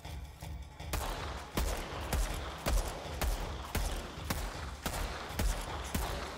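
Gunfire in a shooter video game, heard as repeated sharp shots at a steady rhythm over a low background rumble, fairly faint overall.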